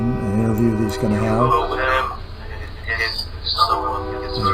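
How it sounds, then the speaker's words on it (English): A train rumbles past in the background with a horn-like tonal blare while someone speaks over it in the foreground. "You might hear a train in the background."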